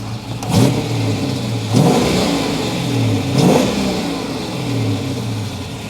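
A Chevrolet El Camino with a 6.0 LQ9 V8 swap, heads, a stage 2 cam and a 4L65 transmission revs up close. Several sharp throttle blips rise over a steady, loud idle, and no one speaks.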